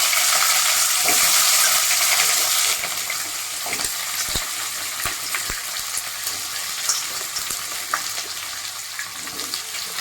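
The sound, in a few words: vegetables frying in hot oil with tempering spices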